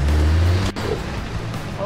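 A truck's engine roars hard as its wheels spin on a steep green lane in Llangollen, North Wales, loud and close throughout, with a brief dip before the strain resumes and people talking over it.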